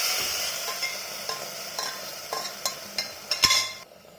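Cooked dal goes into a pan of tomato rasam and gets stirred, with a soft simmering sizzle and a regular series of light spoon clinks that quicken, then stop abruptly.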